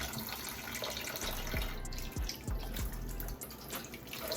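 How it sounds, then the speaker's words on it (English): Tap water runs steadily into a sink as a makeup brush is rinsed under it, a continuous splashing stream with a few brief bubbly plops and drips, close and moderately loud. "And then I run the water under it."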